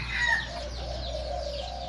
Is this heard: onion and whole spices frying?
no